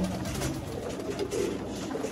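A Sialkoti pigeon coos close by, a brief, low, throaty burble that lasts about two seconds.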